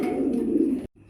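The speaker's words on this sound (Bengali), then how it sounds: "দুইটা আনকমন এক জোড়া শার্টিন কবুতর ভাই" A satin pigeon sitting on eggs coos once in a low, steady, close call that stops abruptly, followed by brief near silence.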